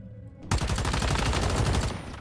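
Rapid automatic gunfire in the video game Once Human, loud and close, starting abruptly after half a second of quiet and continuing as a dense stream of shots until the end.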